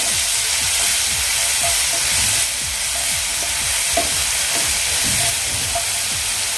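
Fenugreek leaves fry in a pan for methi bhaji, giving a loud, continuous hissing sizzle close up with repeated low stirring scrapes underneath.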